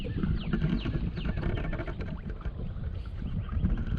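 A 1996 Bayliner Quantum 170XD motorboat's engine rumbles steadily on a lake, with water noise and wind buffeting the microphone throughout.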